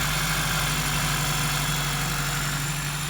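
A Toyota Celica GTS engine idles steadily up close, a continuous even hum with a faint whine that may come from a failing power steering pump. No voices are heard.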